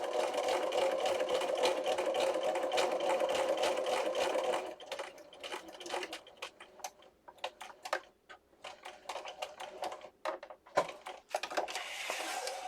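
Sewing machine stitching through paper for scrappy accordion booklets, a fast steady mechanical whir that runs continuously, then breaks into short stop-start bursts and ticks as the stitching slows, close up with no talking.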